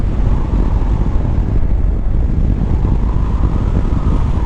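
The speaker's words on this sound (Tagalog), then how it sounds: "Sobrang sarap ng hangin" Wind rushes steadily past a rider on a Honda ADV160 motorcycle on the road, a loud, constant low roar buffeting the microphone.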